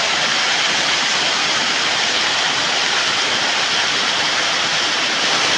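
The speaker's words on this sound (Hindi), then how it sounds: "ये हूँ पूरा लास्ट वाटरफॉल" Waterfall, the last of seven at Balanipashi, heard as a steady, loud, close roar of rushing water that fills the whole stretch without a break.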